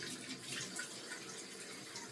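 Running water splashes steadily as a face is rinsed off during a nightly skincare and makeup-removal routine, a soft, continuous hiss with no breaks.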